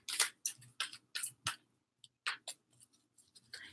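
A deck of cards being shuffled, heard as a quick series of crisp riffling bursts with short pauses between them, close and fairly quiet, with no talking.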